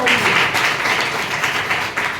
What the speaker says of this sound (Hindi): आदित्य की तालियां बजाइए